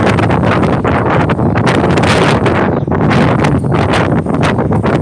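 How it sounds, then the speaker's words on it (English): Strong, steady wind buffeting the microphone, a loud broadband roar with gusty surges throughout and no voices. "It's windy, breezy, and cold."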